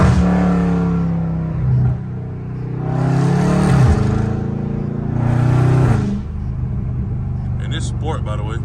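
A Dodge Charger Scat Pack with a catless exhaust roars close by in traffic, rising through two loud revving bursts on downshifts before settling back to a deep rumble, with a voice talking over it.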